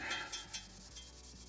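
Sand cloth rubbed back and forth along the shafts of a brake caliper from a 2006 Ford F-150, a short, close scratchy scrubbing with a few quick strokes.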